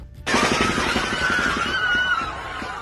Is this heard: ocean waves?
no